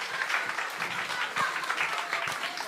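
Congregation at a Sunday evening church service claps together, a fairly distant, steady patter of many hands that holds at an even level for a few seconds.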